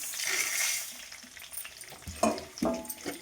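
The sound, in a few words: green and dried chilies frying in tempering oil on stove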